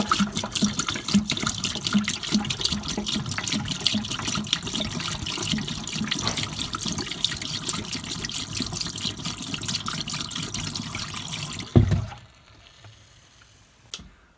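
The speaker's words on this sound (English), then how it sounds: "next we're going to dump antifreeze down into the sink." Antifreeze poured down a sink during a cottage shutdown: a steady, close liquid gush with ticking splashes lasts about twelve seconds, then stops abruptly with a clunk, followed by near silence and one faint knock.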